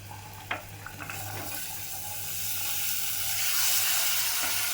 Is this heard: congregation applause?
no